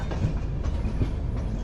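The Tirumala Express, running Visakhapatnam to Kadapa, rolls past nearby with a steady loud rumble and a rhythmic clickety-clack of wheels on the rails.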